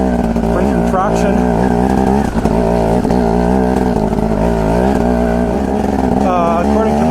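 A KTM Freeride 250R dirt bike rides over loose lava, its engine droning loudly and steadily close by with rising and falling revs throughout, while a rider's voice talks intermittently over it.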